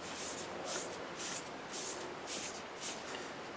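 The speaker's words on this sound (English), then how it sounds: "First coat of shellac-based sanding sealer." Quiet, repeated bursts of spray hiss as shellac-based sanding sealer is sprayed onto turned wood in a soft rhythm, about six short sprays spaced evenly over a faint background.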